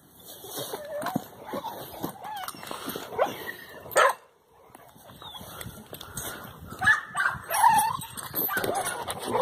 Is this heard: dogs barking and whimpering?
yes